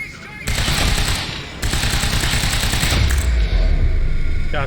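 Gunfire in the video game Quantum Break, heard as rapid automatic bursts that run almost continuously at close range, with a short break and a heavy low thump near the end.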